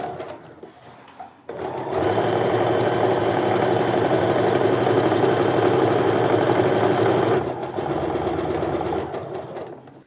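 A sewing machine runs in one continuous, loud, even burst for about six seconds, reinforcing the start and end of the pocket seams on a sling bag, with quieter mechanical handling before and after.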